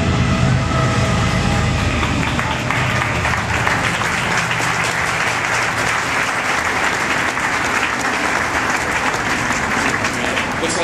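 A long train rumbles past an outdoor political rally in Washington, Missouri, a loud, steady broadband roar with low droning tones that fills the whole stretch without letup.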